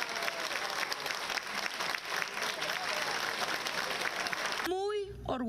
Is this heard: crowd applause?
yes